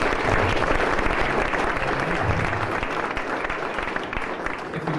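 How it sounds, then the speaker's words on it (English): A crowd claps continuously, a dense wash of applause that holds steady for several seconds. "So round of applause for Jim."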